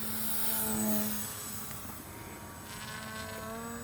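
A Horizon Hobby Timber 1.5 RC airplane on floats buzzes steadily overhead at about 40% power, a continuous whining motor drone that swells and eases slightly as it passes.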